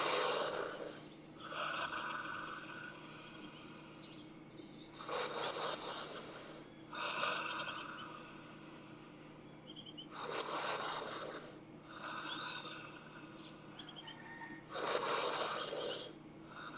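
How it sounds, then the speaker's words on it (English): Deep, slow breaths in a breathwork exercise, with strong noisy inhales or exhales in bursts every few seconds over a steady low hum, close and fairly loud, with no talking. "Deeper breaths than before."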